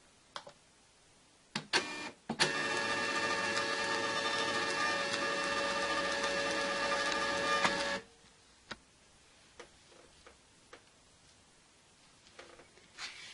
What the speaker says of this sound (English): I'm going to just print a couple more and show you how easy it is to print with this ribbon printer